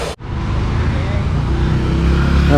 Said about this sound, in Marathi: गाड्यांची थोडीफार वर्दळ आहे